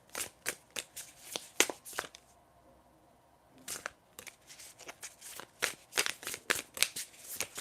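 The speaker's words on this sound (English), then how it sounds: "Kimberly, I'm just shuffling my cards and then I'll start your reading." Tarot cards are shuffled by hand in quick riffling bursts of crisp, papery flicks, with a short pause in the middle before the rapid shuffling resumes, close and clear with no talking.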